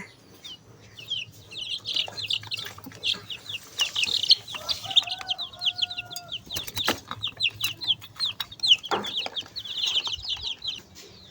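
Chickens cluck and chirp almost constantly, with busy overlapping calls close by and no talking.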